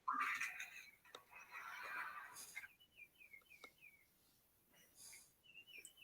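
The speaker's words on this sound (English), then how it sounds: "My bird clock going nuts." A bird clock sounds off with a run of chirpy electronic bird calls, a loud trill at first and then a string of short whistled tweets repeating at a steady pace, with faint background noise.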